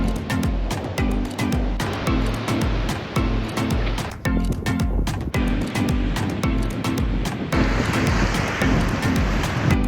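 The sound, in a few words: sea waves and wind on a Danish beach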